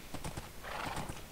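Minecraft horse with quick clip-clop hoof steps followed by a neighing whinny, short and moderately close, with no talking.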